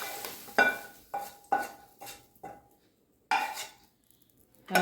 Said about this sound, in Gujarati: હવે એને હું સાઈડ ઉપર કાઢી લઉં છું એક પ્લેટમાં